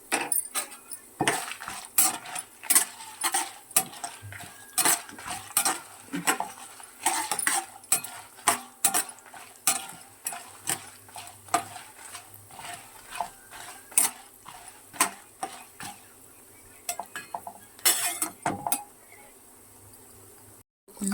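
Metal spoon clinks and scrapes in a pan of tamarind rice as green chillies are added, with rapid irregular taps and stirring strokes close up, over a faint steady background hiss and no talk.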